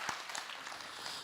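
Audience at a Buddhist monk's question-and-answer lecture giving a short round of applause, faint and distant, a brief patter of clapping lasting just over a second.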